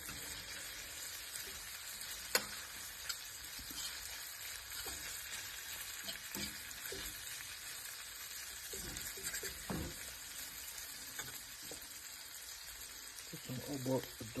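Saltfish and seasoning sizzle steadily in a hot pan, a continuous close frying hiss with occasional stirring scrapes and clinks, getting busier toward the end.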